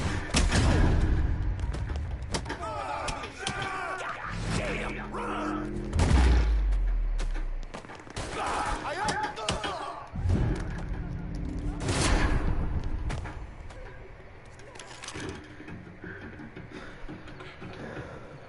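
Gunfire in Mafia 3: a burst of shots and heavy thumps early on, then scattered reports at intervals, mixed with game sounds and voices talking over much of it.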